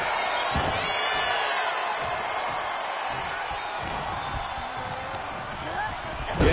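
A wrestling arena crowd roars in a steady, dense wash of cheering while a commentator talks over it.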